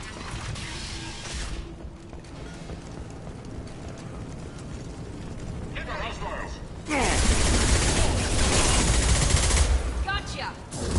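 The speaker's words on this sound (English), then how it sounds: "Blue Suns and Vorcha shooting anything that moves." Gunfire from Blue Suns mercenaries and Vorcha in the video game Mass Effect 2 crackles in rapid bursts over a steady noisy bed, growing louder and denser in the second half.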